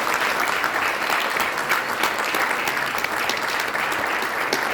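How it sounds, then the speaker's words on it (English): Audience applause at a bar show talk, a dense, steady wash of clapping filling the room for several seconds without a break. "you deserve a huge thank you and a round of applause for yourselves."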